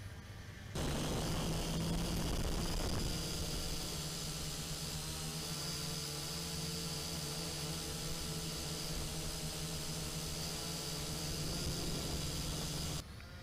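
A Feilun FX122 camera drone, a gimbal-mounted quadcopter, hovers nearby with a steady buzzing propeller whir and rushing wash that starts abruptly, holds evenly for about twelve seconds, then cuts off.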